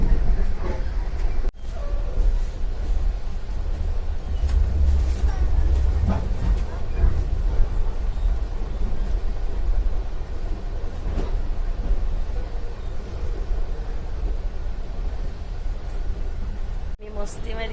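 Steady low rumble and rolling rail noise from a moving passenger train carrying a family on a trip, continuous throughout with a brief thump near the start and end, under quiet background chatter.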